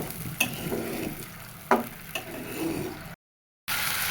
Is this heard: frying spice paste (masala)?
yes